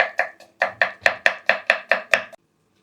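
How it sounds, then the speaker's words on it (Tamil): A knife chops cucumber into small pieces on a board, nine crisp, evenly spaced strikes in a steady rhythm, close and fairly loud, then stopping. "நான் வந்து குட்டி குட்டி பீஸாக நறுக்கிக்கிறேன்"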